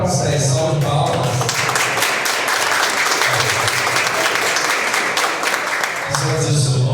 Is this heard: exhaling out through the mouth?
no